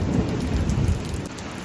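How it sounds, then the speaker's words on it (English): Hail and rain fall outside in a dense, steady roar of hissing patter with low rumbling, close and loud throughout with no voices. "It's hailing."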